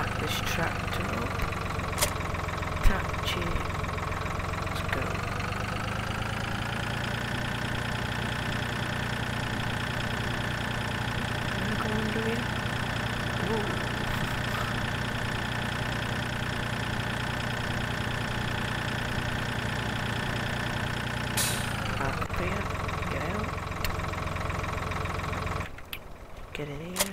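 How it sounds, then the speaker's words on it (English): Tractor engine idling in the Farming Simulator 2013 video game, a steady low drone that runs unbroken for about twenty-two seconds before cutting off near the end, with a voice talking over it. "Back this tractor up."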